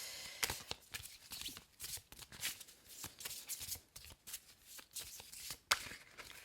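Tarot cards being tapped and handled: soft, quick papery flicks, taps and shuffles in an uneven rhythm, close and quiet, with no other sound around them.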